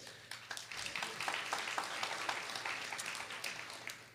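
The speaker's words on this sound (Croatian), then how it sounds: "vas molim da ih podržite još jednom velikim pljeskom" An audience at a local singing competition applauds young singers with sustained, moderately distant clapping that rises quickly and holds steady throughout.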